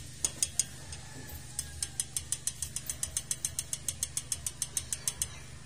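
A ratchet wrench works a 10mm bolt on a TMX 125 Alpha motorcycle, giving off a rapid run of sharp, evenly spaced clicks, close and fairly quiet. A few isolated clicks come first, then a steady stream follows.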